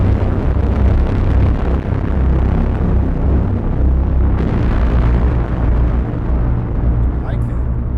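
A dense, loud braam built on a modular synthesizer, a thick low roar holding steady for the full length with a brief dip near the middle.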